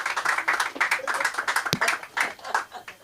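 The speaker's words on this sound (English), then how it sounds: "Give her a round of applause." Audience applause welcoming a guest on stage at a comedy show, a steady wash of many hands clapping close and dense for the full stretch, with a sharp thump partway through.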